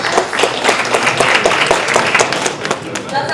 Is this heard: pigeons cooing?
no